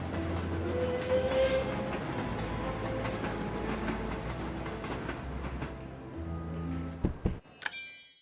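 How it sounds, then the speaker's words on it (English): In a video game set in the Alps, a train departs with a steady low rolling rumble of rail cars. Near the end come a few sharp clanks and a brief chime. "Well, the train is about to depart."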